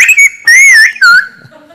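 A man whistling the traditional whistled language of Antia, Greece: three loud, close whistled phrases with gliding, rising and falling pitch, then a fainter tail.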